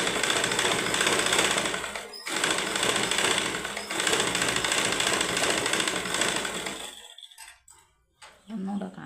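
Sewing machine stitching a blouse patta, running in a steady, dense rattling whir with a brief pause, then stopping near the end before starting up again.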